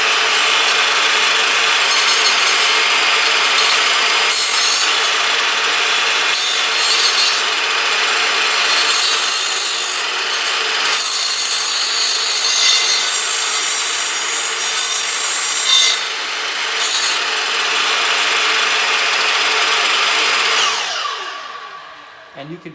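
A mitre saw blade spins up and cleans up a cut in wood, a loud, sustained rasping whine with brief shifts as the blade moves back and forth, then winding down at the end.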